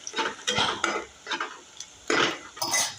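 Onion frying in a nonstick pan for a Marathi leafy-vegetable dish, with a spatula stirring and scraping in irregular bursts over a soft background sizzle, close and moderately loud.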